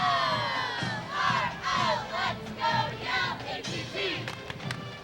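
Cheerleaders perform a cheer at a Memorial Day parade in Attleboro, a crowd of young voices chanting and shouting in rhythmic bursts that carry across the open street.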